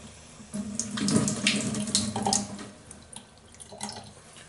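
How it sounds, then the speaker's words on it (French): Tap water runs into a sink to wet the face before a traditional straight-razor shave at a barbershop in Old San Juan, a close splashing flow that swells, then trickles and drips away. "On va se mouiller un petit peu la figure."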